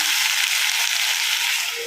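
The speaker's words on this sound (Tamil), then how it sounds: "ஆட் பண்ணதுக்கப்புறம் நல்லா கிளறி விடுங்க" Cut potatoes sizzle and fry steadily in a hot pan as they are stirred, a dense, close crackling hiss holding at an even level throughout with a soft scrape partway through.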